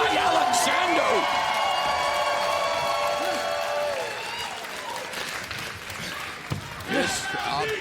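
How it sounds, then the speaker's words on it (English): A wrestling crowd chanting at an MLP Wrestling match, a rhythmic chant with claps and cheers from an arena audience, and a commentator speaking over it. "the crowd now chants MLP again"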